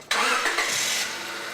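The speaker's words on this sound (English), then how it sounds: "Start the engine" A car engine cranks and catches, then settles into a steady idle, loud and close, during a BG CT700 cooling system flush service, with no talking.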